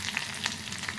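Onion and dried red chillies frying in hot oil, a brief continuous sizzle with light crackles, close and alone.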